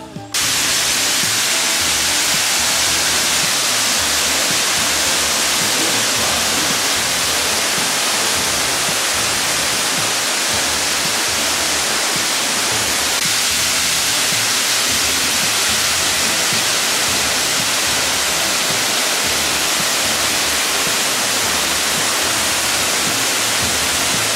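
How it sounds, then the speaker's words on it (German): A waterfall in Springbrook National Park, Australia roars as a loud, continuous broadband rush of falling water, close and unbroken throughout. "also der Wasserfall hat hier so seinen Ursprung"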